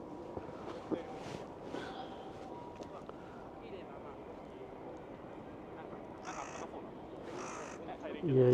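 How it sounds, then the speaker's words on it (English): A hoarse crow caws twice in a snowy Hokkaido winter scene, rough and fairly close, over steady wind noise and faint background chatter, with a brief low sound at the very end. "Yeah, you can probably hear him now."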